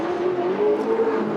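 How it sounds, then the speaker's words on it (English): LSX-engined drift cars, including a Chevrolet Camaro, rev hard during a top-32 final-round battle at Sochi Autodrom, a deep, thick baritone roar held steady and loud throughout. "baritone of engines fills the air."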